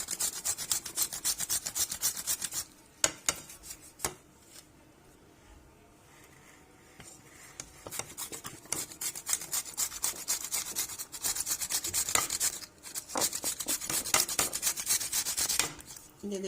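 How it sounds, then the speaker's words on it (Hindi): Tomatoes chopped with a kitchen knife on a board while preparing egg paratha, heard as fast, steady, close, crisp strikes in bursts with a short pause partway through. "ये देखिए ऐसे ही हमने टमाटर को चॉप कर लिया है।"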